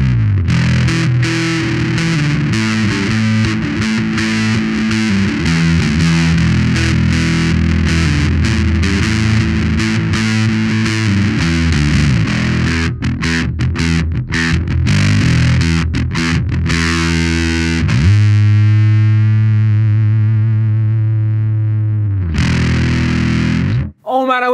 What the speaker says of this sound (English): Let's nuzzle on over to the Nano Bass Big Muff.